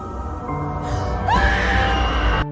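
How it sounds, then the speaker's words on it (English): A woman's scream in a narrated drama, a loud, rising shriek that swells midway and breaks off abruptly, set over a dense background effects bed. "and let out a scream"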